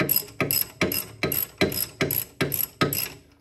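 A ratchet wrench turns a bolt on the engine of a 1964 Chrysler New Yorker, giving eight evenly spaced bursts of sharp, close clicking.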